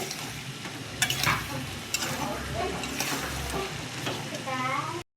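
Potatoes and chicken are stir-fried in a pan with a steady close sizzle, and a utensil scrapes and stirs the pan in uneven strokes throughout.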